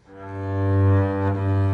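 Two bowed double bass harmonics sound together as a single sustained, rich tone that swells and then holds steady, close and alone.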